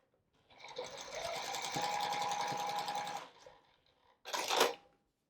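A sewing machine joins two quilt rectangles for a scrap-quilt potato chip block, giving one short, close burst of rapid stitching, then a brief snip or click.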